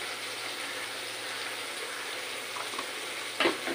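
A mustard and green chili spice paste with dried chili powder is sautéed in a pan for a fish jhal, giving a quiet, continuous sizzle with a single sharp clink near the end. No one speaks.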